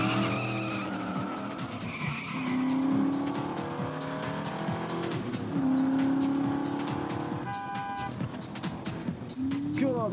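Tires squeal loudly as a car pulls away in an anime scene, a rising screech over engine roar, with music and other sounds layered throughout.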